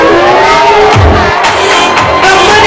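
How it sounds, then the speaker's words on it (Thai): A crowd cheers and claps at a cosmetics brand pop-up store launch for a HERA cushion foundation presenter, with loud, close voices and tonal shouts swelling over a brief burst of clapping. "3 2 1เชียร์ปรบมือ"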